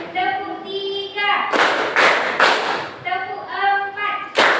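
A teacher leads a classroom clapping routine, calling out counts while a group of children answers with bursts of loud, close unison claps between her spoken cues.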